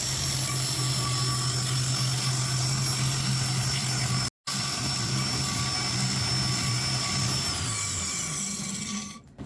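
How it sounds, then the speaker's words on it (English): An angle grinder cuts metal while a vise is being mounted, a loud steady whine with a brief break midway before winding down at the end. "Let me use my Go Fast grinder."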